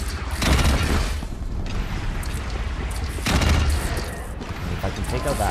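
Weapons fire in the video game Horizon Zero Dawn, with two dense bursts of booming, rattling shots around a second and near four seconds, and loud game action filling the gaps between them.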